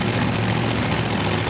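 A drag racing car engine roars at full throttle to clean out the throttle at a dragstrip, a loud, steady, close-up blast of raw engine noise.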